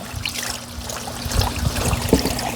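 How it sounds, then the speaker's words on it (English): Water seeping and trickling from the first tier of a patio fountain bought at Walmart, a soft, uneven dribble with small splashes close by over a low hum, no talking. "Water's not going up to the finial though. It's just seeping out of the first layer."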